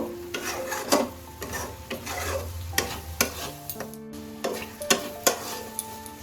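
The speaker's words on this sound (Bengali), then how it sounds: "আরও মিনিট 5 এইভাবে নেড়ে নেড়ে আমি এটাকে শুকিয়ে নেব" Loita (lote) fish jhuro being stirred and dried in a pan, with steady scraping strokes of the spatula over a soft continuous sizzle, close and fairly loud, no voices.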